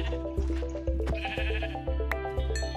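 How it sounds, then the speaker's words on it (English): Sheep bleat in a video game, a run of nasal, wavering bleats that repeat close and loud against a steady droning background, with no talking. "No, only two of them are sheep."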